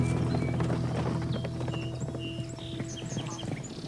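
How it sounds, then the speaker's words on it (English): Horses of a riding posse passing on a road below, a brisk clip-clop of hooves at moderate distance over a dull rumble, with faint bird chirps above. "Sometimes I saw posses riding by on the road below."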